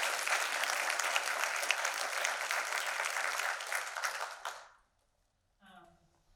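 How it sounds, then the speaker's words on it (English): An audience at a candidates forum gives a round of applause, loud sustained clapping that fades out after about four and a half seconds, followed by a brief silence and then a voice beginning to speak. "Shall we give them a round of applause?"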